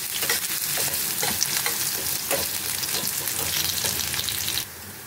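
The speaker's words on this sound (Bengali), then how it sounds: "পেঁয়াজটা একটু লাল লাল করে ভেজে নেবো" Chopped onions stirred and frying in a pan for kalmi greens, a steady close sizzle with scraping stirs throughout, cutting off sharply near the end.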